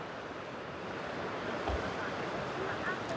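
Atlantic Ocean surf below a clifftop on the Irish coast, a steady broad wash of waves with wind noise, continuous and fairly even in level.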